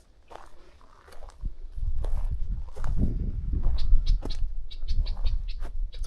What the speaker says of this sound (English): Some red-winged blackbirds out there.